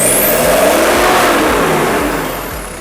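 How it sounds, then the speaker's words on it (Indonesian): A Mitsubishi Triton pickup's turbo engine revs loudly right after a cold start, a strong sustained roar with a rising turbo whistle over it, easing off slightly toward the end, with no voices. "Dengar langsung turbonya."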